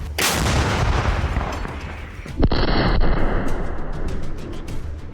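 A heavy 152mm artillery gun fires with a loud booming blast, followed by a long rumbling echo over steady background noise.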